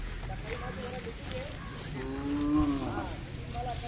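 A Mysore or Khillar calf lets out a single drawn-out moo, moderately close, over a low background hum with faint voices nearby.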